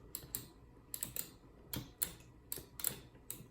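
Sharp clicks from a Mayflash F500 fight stick joystick knocking against its restrictor gate, arriving in small irregular clusters of two or three crisp, close taps with short pauses between, no talking.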